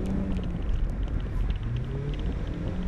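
An automatic car drifting gives a steady, loud engine rumble and drone heard from inside the cabin, with the revs rising and falling slightly under the continuous noise.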